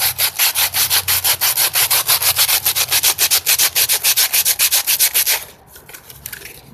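Rhythmic back-and-forth sanding on wood, fast steady strokes for several seconds, then stopping into quiet rustling.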